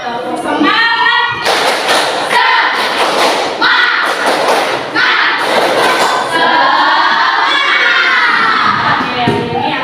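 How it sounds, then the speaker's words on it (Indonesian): Schoolchildren in a classroom chant loudly in unison, punctuated by bursts of sharp group clapping and thumps in a rhythmic pattern, with shouted voices throughout. "Sedia tepuk. Siap. Tepuk semangat."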